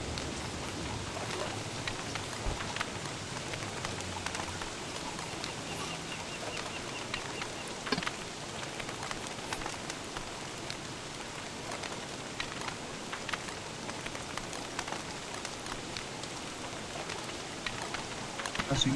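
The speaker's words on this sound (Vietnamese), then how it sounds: "Trời mưa." Rain in the video game Don't Starve Together falls steadily as a dense hiss with scattered drop ticks, continuing evenly throughout.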